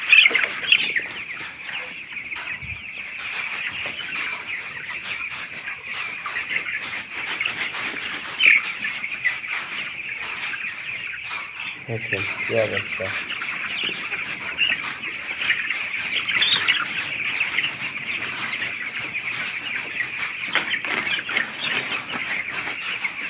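Broiler chickens on a poultry farm keep up a steady, dense chorus of clucking and chirping from a crowded flock nearby, with a brief voice speaking partway through.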